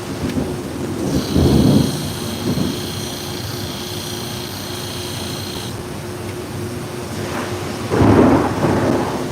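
Thunder rumbling during a thunderstorm, with two loud low rolling bursts at the start and end and a steady rain-like hiss and faint high tonal hum in between, no talking.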